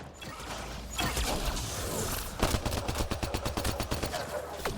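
Rapid gunfire in the sci-fi shooter game Mass Effect Andromeda, a dense stream of fast, loud shots building into a steady automatic rhythm amid combat noise.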